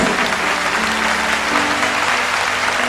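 Sustained loud applause from a congregation in a church, many hands clapping in a thick continuous roar that holds steady throughout, with a low held tone underneath.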